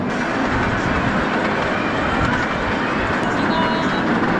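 A small tourist mini train runs steadily nearby at a scenic mountain park, giving a continuous close rumble of wheels and carriage noise with no pauses.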